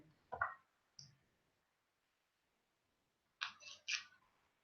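Computer mouse clicks, a few sharp, faint clicks in quick pairs with long quiet gaps between them.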